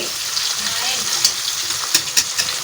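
Bitter gourd (ampalaya) vegetables sauté in a pan with a steady, close sizzle. Light stirring and clinks break through the frying at intervals.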